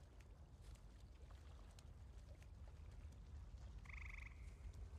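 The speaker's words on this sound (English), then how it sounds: "That is the frog making the noise." A frog croaks in Elder Scrolls Online at a fishing spot beside water, a short rhythmic burst of croaks over a faint steady ambient wash, fairly distant and quiet.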